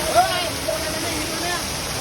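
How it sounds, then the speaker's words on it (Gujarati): Heavy water gushes in a steady, loud, unbroken roar for two seconds in a residential neighbourhood during Holi, with no pauses or other sounds standing out. "અહીંયા પાણી આવી જશે ધોધમાર પાણી છે અહીંયા"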